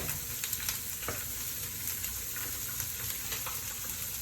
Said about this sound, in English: I'm sauteing the vegetables